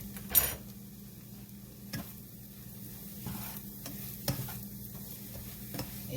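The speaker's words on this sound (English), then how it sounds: "I'm gonna add a little butter to this rice too. Y'all hear it's already sizzling." Butter sizzles faintly in a pan of leftover rice: a low, steady hiss with a few soft utensil clicks and taps, close by and quiet, with no talking.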